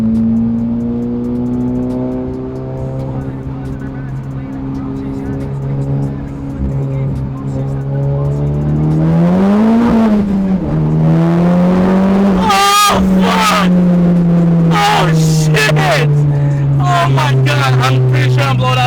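A Honda Civic Type R FK8 on an E85 stage 2 tune drives and accelerates hard, its engine note rising through gears with a loud, close pull, sharp shifts and a voice talking over it.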